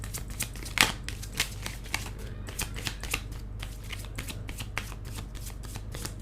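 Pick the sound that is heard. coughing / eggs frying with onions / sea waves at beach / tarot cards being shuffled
tarot cards being shuffled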